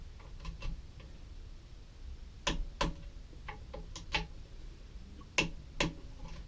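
An old Matco mechanical torque wrench ratchets and clicks while tightening oil pan bolts on a Mopar 360 engine, giving sparse, quiet ticks at uneven intervals with a few sharper clicks close by.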